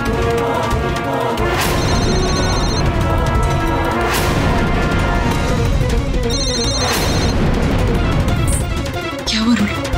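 A telephone rings in repeated bursts over loud dramatic music and crashing effects in a Hindi TV drama scene.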